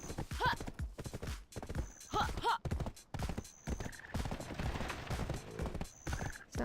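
A horse's hooves clip-clop in a video game, in bursts of rhythmic, close thudding steps with occasional whinnies, while a person talks over parts of it.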